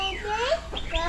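A pet bird gives a few quick, close chirps and whistled calls on a home balcony, set against a faint background hum.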